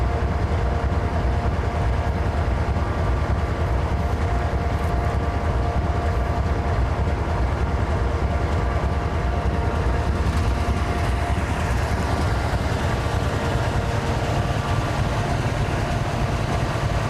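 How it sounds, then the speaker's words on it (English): A massive freight train rolls past in Grafton, West Virginia, its loud, steady low rumble and rail noise continuing unbroken, close and without letup. "Got our first train of the day. Here you see how massive of a train this is."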